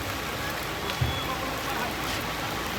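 Steady rain falling outdoors at a hajj camp, a constant close hiss of drops on surfaces with one brief soft knock partway through.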